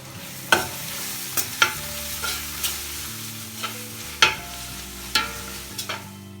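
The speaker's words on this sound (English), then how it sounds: "Saute till it goes soft. Then goes the ginger, garlic and green chilies crushed." Ginger, garlic and crushed green chilies being sautéed in a pan, with a soft steady sizzle under repeated sharp scrapes and clinks of a spoon stirring against the pan.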